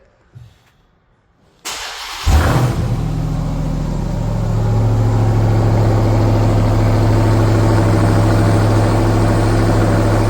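A supercharged 700 hp 2021 Ram TRX pickup fires up with a loud burst, then settles into a deep, steady, rumbling idle that holds for several seconds.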